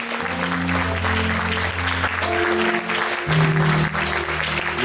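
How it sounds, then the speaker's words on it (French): Church congregation applauding at a Sunday service in Nantes, a steady dense wash of clapping and cheering that fills the whole clip with sustained organ or keyboard tones beneath. "Si tu crois que Dieu est béni par ce message, acclame le Seigneur."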